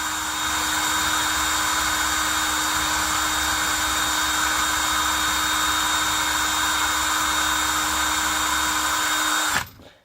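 A rotary tool spins a burnisher against the edges of a black leather knife sheath, a steady high whine and hum holding close and loud for nearly ten seconds before winding down.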